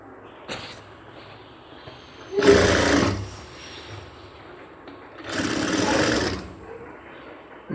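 Sewing machine stitching a cargo half pant, two loud bursts of stitching of about a second each separated by a quieter pause, close up with no talking.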